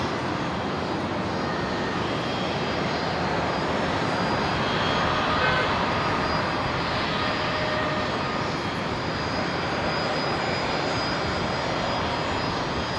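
A Fokker 100 airliner lined up on the runway at Brisbane Airport, ready to depart, gives off a constant moderate jet engine rumble and hiss, steady for the whole stretch with no voices.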